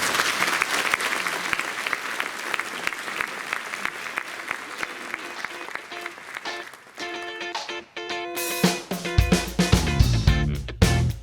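Applause from an audience at a college celebration of a successful year, dense steady clapping throughout that thins toward the end as music enters.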